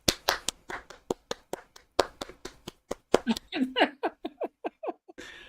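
A small group of men clapping, with sharp, distinct claps in a steady, spaced rhythm that grows looser as laughter and voices join in, then trails off.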